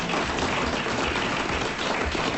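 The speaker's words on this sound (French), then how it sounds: "applaudissements pour Madame Marcy avant qu'elle reçoive son mandat" A studio audience on a French comedy show applauds, a dense, steady wash of clapping filling the whole moment without a break.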